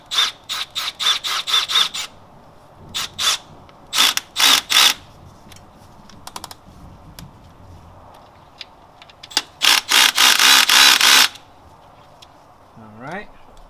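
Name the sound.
ratchet tightening valve cover bolts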